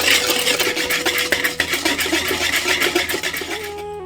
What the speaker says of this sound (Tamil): இப்ப இதை நல்லா கலக்கி விட்டுட்டு